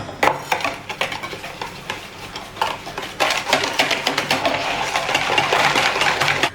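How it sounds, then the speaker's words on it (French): Egg yolks, a whole egg and sugar are whisked together in a bowl for a French Basque cake, making quick, rhythmic scraping clicks that continue steadily and grow slightly louder. "on va mettre notre œuf, nos 2 jaunes et notre sucre dans un bol et on va les mélanger."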